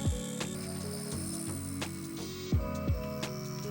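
A milling machine flattening small wooden handle pieces for a Roman gladius dagger, giving a steady mechanical whir with tonal motor hum, punctuated by a few brief louder scraping bursts as the cutter engages the wood.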